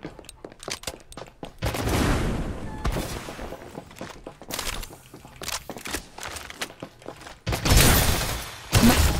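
Rapid bursts of gunfire in the Farlight 84 video game, clustered volleys and single shots close by, with brief voice chatter in between.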